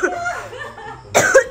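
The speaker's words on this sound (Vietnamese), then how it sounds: "Em ho." A single cough bursts out near the end of a short stretch of quiet voice sounds, during a playful scuffle between two siblings at home.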